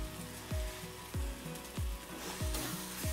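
Onion bhaji sautéing on a slow gas flame with garlic-chilli masala and coriander, a continuous sizzle broken by about five rhythmic scraping stirs of the pan.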